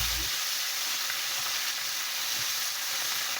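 Fish frying in hot oil until crispy, giving a dense, continuous close-up sizzle and crackle with no talking.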